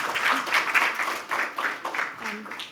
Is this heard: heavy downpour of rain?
no